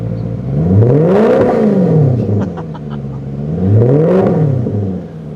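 A 2009 Maserati Quattroporte Sport GTS engine in sport mode, revved twice up and back down at close range, loud and throaty, with nothing else over it.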